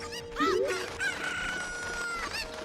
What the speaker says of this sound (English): You usually see chickens in a DDR seed.